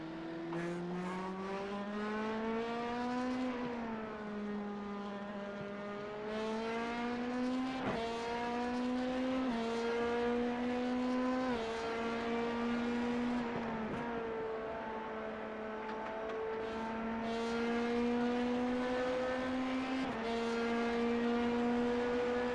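LMP2 prototype race car engine in iRacing at Spa, a loud continuous high-revving whine climbing through gears with repeated upshifts and pitch drops, sustained and close throughout with no talk.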